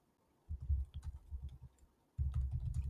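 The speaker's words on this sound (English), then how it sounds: "I'm just typing it randomly." Close, rapid typing on a computer keyboard comes in two quick bursts of soft clicking keystrokes separated by a brief pause, with no voice over it.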